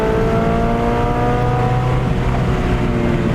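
A modified 420 WHP 2001 Subaru STI accelerating hard on a race track, its engine note rising steadily and loud, with a close, continuous drone and no voices.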